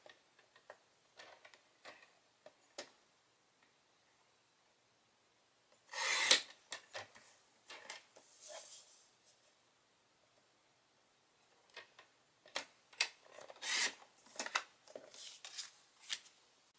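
Cardstock and patterned paper pieces cut on a paper trimmer for a handmade Easter card, heard as quiet, scattered rasping slides and ticks in short bursts separated by silence.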